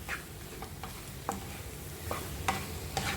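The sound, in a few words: stirring chicken into onion and potato mix in pan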